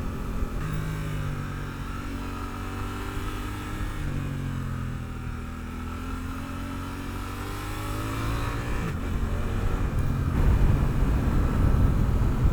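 A 2024 Suzuki GSX-8R with a 270-degree parallel twin engine and stock exhaust gives a loud, continuous rumble with rising and falling revs, growing stronger toward the end, with no talk.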